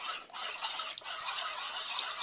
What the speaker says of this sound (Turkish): ince karıştırıyoruz